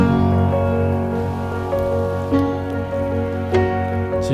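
Rain falls steadily at a campsite during a family camping trip in Smangus in muddy conditions, a continuous soft patter with a few brief louder drops and splashes.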